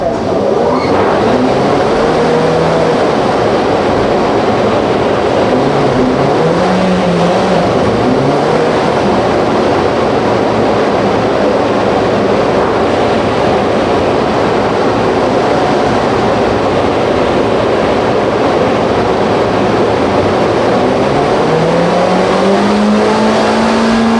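A Honda Brio 1.2L hatchback with a remapped ECU and the speed limiter removed accelerates hard on a speed test run. The engine drones loud and steady from inside the car, its pitch rising through the gears over constant road and wind roar.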